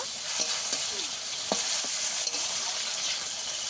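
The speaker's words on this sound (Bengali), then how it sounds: "টমেটোটা আমি ভালো করে একটু ভেজে নেব।" Chopped tomato frying in oil in a pan for a vegetarian okra dish, a steady close sizzle with a few soft scraping stirs of a spatula and no voices.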